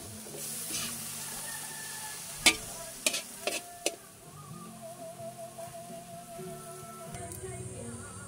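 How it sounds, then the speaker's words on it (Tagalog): Adobong sitaw (string beans) is stirred in a pan over a soft, steady sizzle, with a few distinct scraping clicks of the utensil and a low background hum. "Haluin ng haluin."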